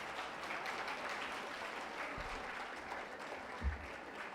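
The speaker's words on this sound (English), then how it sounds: "A huge round of applause for them." Faint, distant applause from an audience at a felicitation ceremony at India Habitat Centre, New Delhi, a low continuous patter of many hands with a couple of soft thumps, no clear voices.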